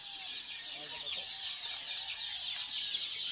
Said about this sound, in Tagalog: Iba nagpapatuka ng sisiw dito.